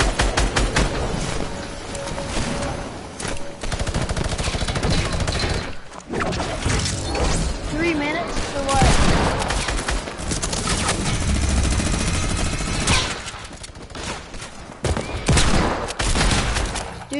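Rifle gunfire in a Fortnite match, sustained loud bursts of shots and impacts continuing almost without pause through the whole stretch, with brief gaps, no talk.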